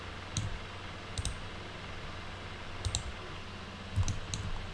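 Sparse computer mouse clicks during 3D modeling work, coming in small clusters of one or two sharp, faint clicks spread across a quiet room hum, with no talk.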